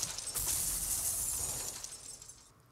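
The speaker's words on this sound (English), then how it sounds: "crashing sounds that have like a little bit of dynamism to them" Wooden boxes shot with a first-person controller in a Unity3D game break in a crashing, glassy shattering burst that swells loudly, then fades over a couple of seconds, with no voices.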